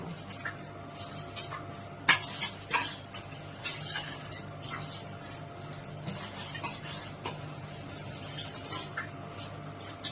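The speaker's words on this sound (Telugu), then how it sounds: "ఎసరు కాగిపోయినాయి రైస్ వేస్తున్నాను" Rice goes into a pot of boiling water while biryani is being made, giving a few sharp clattering, pouring bursts near the start. A low, steady bubbling hiss of cooking noise continues underneath.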